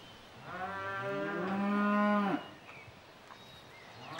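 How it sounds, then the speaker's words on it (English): A cow in a barn at feeding time gives one long, loud moo that rises and then breaks off, leaving a quiet background with no talking. "The cows really love their food."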